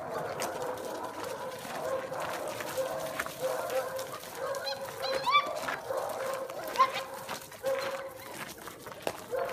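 Five-week-old Malinois puppies and their mother, with faint whimpers, yips and an occasional bark scattered over steady outdoor background noise and a few bird calls.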